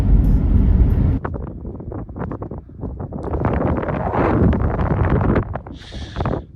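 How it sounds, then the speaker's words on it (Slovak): Strong wind sweeps over open, treeless hills and buffets the microphone with loud, continuous rumbling gusts. The roar surges and eases throughout, with no voices. "Keďže vymizli stromy, tak riadne sa tu spustil vietor"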